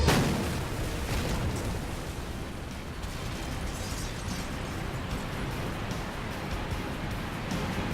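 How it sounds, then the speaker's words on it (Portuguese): A water-hammer pipe burst: a continuous roaring rush of blasting noise, like a violent burst of escaping steam, sustained and loud throughout without pause. "passe pelo encanamento, causando assim uma imensa explosão"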